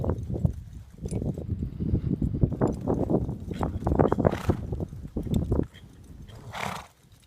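A horse works around a riding circle during a barrel racing warm-up, with close hoof clip-clops in a steady rhythm, snorts and breathing, then the hoofbeats fade near the end.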